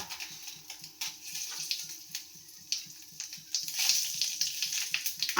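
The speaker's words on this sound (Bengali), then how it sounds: "তো তেলের মধ্যে আমি দিয়ে দেবো কালো জিরেটা" Black cumin sizzling in hot oil, a steady sizzle with faint crackles throughout, joined by a few louder stirring scrapes and a brief burst of frying near the middle, no talking.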